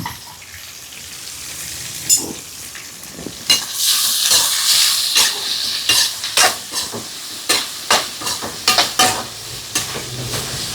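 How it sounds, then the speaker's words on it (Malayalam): Neem and coriander leaves sautéed in a pan, a close, bright sizzle and hiss rising after a few seconds, punctuated by repeated scraping stirs of a spoon against the pan at an uneven rhythm, with no talk. "എല്ലാം കൂടെ ഇട്ട് ഒന്ന് വഴറ്റിയെടുക്കാം"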